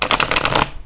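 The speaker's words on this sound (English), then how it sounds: "There's my bridge shuffle." Tarot cards from a World of Hilda deck being bridge shuffled: a quick, crisp flurry of riffling paper flicks in a tight rhythmic burst lasting under a second, close and clear, then cutting off.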